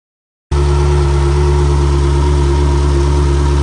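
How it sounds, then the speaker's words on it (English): A loud, steady Ferrari 360 engine idles with a deep, even rumble after a brief silent start, continuous and close. "start the engine, get it up to temperature"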